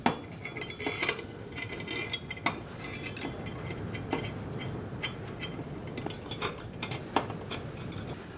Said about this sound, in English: we need to get our longer bolts, some flat washers, and put this together